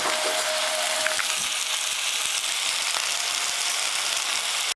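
Steady, dense sizzling of pierogies frying in a hot pan, loud and continuous throughout with faint clicks underneath.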